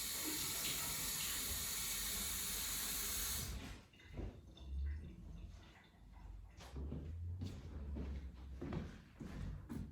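Water runs noisily from a tap into a sink for a few seconds, then cuts off, leaving quieter clinks and splashes as a paintbrush with leftover gesso is put in water to soak.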